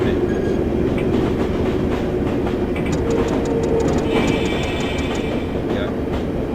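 A London Underground District line train runs in a video game toward Hammersmith, a steady rumbling roll with rail clatter and a few brief high squeals and tones, moderately loud and continuous.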